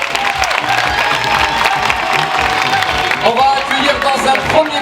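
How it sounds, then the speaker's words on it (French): An audience at a closing show claps and cheers for the final teams, a loud, continuous crowd roar close by, with a voice speaking over the applause. "on va vous demander d'applaudir les 2 dernières équipes s'il vous plaît"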